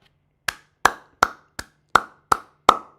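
A pair of hands claps seven times, sharp and close, in a slow, even rhythm with short pauses between claps and no talking.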